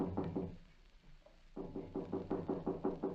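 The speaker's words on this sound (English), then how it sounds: "Then at the home of Aligo Ortega, a feeble knock is heard at the door." A feeble knock sounds at a door as a radio drama sound effect, a few soft raps followed after a pause by a longer, steady run of muffled knocks, fairly quiet and alone.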